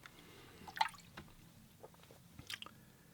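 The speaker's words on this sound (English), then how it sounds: "We'll do some green splashes over here." Green watercolor paint splashed onto a watercolor flower painting, giving a few soft, wet drips and splats that stay faint and sparse against a quiet room.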